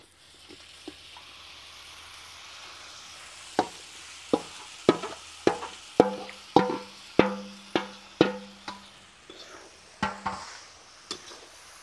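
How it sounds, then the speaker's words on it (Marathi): Brinjal sautéed with spices in a pan over a wood-fired stove for a Maharashtrian brinjal dum biryani, a low sizzle under a run of sharp, regular scraping and tapping strokes from a spoon stirring against the pan. "वांगे परतून घेऊ 1-2 मिनिट."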